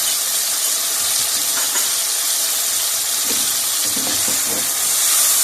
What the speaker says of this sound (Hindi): अच्छी तरह हमारा चिकन फ्राई हो गया।